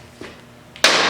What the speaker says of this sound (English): So now we have to hammer this back in.